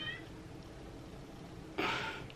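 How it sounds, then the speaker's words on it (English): A cat meows inside a Toyota Corolla four-door car, a faint short call near the start and a louder, closer meow near the end over a low steady in-car hum. "I don't know if you can hear the cat meowing."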